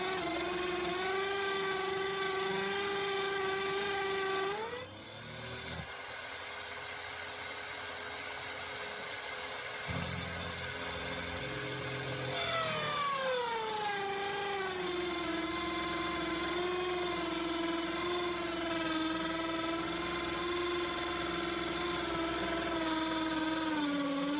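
Loud, continuous whine of a power drill boring through metal on a 1951 Ferguson tractor's thermostat housing, its pitch dipping under load then rising again, steady and close throughout.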